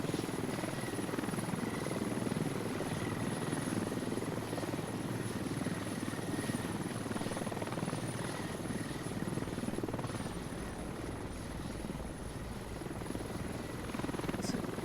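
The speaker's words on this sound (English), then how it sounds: "The helis are taking off." Several military helicopters lift off in the tactical shooter game Squad, with a steady, loud rotor and engine drone that fills the whole stretch without a break.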